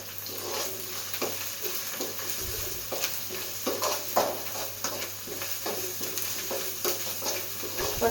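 Ginger garlic paste with a pinch of turmeric sizzles and fries softly in a pan, with a steady hiss under repeated scraping stirs of a spoon, close and fairly quiet.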